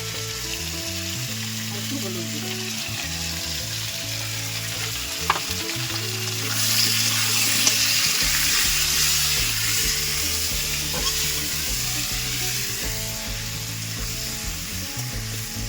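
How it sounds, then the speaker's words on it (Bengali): Potatoes fry in oil in a pan with a constant hissing sizzle that swells slightly midway, close and uninterrupted, with no talking. "আলুটা ভাজা হতে চাই"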